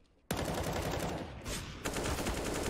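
Dense, continuous gunfire and bursts from a Counter-Strike professional match between FaZe and Liquid at IEM Katowice, loud and close, starting abruptly after a brief quiet moment.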